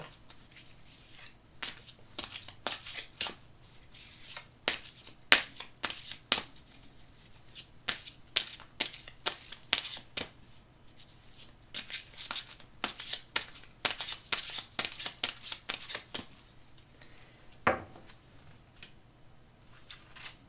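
A deck of playing cards is shuffled and cut at a table, giving repeated crisp riffles and snaps in irregular bursts, close and fairly quiet, with no talking.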